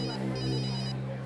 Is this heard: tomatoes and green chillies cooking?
no